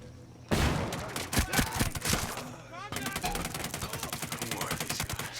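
Automatic weapon fire in Ghost Recon Breakpoint, an alpha build of the game: loud, rapid bursts of shots from about half a second onward, with a brief pause before a steady stream of rattling rounds near the end.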